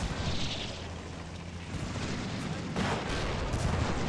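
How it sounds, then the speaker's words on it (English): In a Battle of Kursk war game, a 120mm mortar fires with heavy booming blasts and rumbling explosions, loud and layered over a continuous battlefield roar. "Oh my, 120mm mortar, that's some serious firepower."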